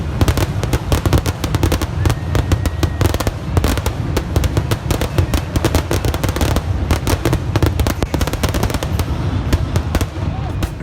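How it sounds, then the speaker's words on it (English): Fireworks crackle and pop in rapid, dense bursts throughout a display at Great American Ballpark in Cincinnati, a steady barrage of sharp bangs with no pause. "it is definitely the best fireworks display I've ever seen"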